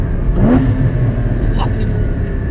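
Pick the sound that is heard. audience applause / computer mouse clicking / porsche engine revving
porsche engine revving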